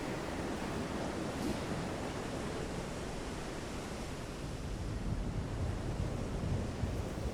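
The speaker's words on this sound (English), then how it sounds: "The rain is pouring down, the wind is howling. Waves are climbing all the way up to the conning tower." Relentless storm on the open sea in Silent Hunter 3: pouring rain, howling wind and heavy waves surging against a surfaced U-boat off Brest, a loud, dense, continuous roar that swells slightly toward the end, with no voices.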